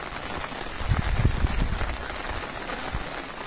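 Monsoon rain patters steadily on an umbrella overhead in a Konkan village, a close, continuous drumming with a few heavier drops landing near the start.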